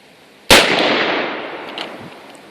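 A single sharp gunshot cracks at an outdoor shooting range in Stare Bogaczowice, loud and close, followed by a long echoing decay across the range.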